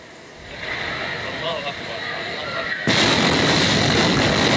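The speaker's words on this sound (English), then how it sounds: "Photoshoot captured the blast in Lebanon" The Beirut blast in Lebanon hits during a bride's outdoor photoshoot: a murmuring ambience swells, then a sudden, massive broadband roar bursts in and stays loud to the end.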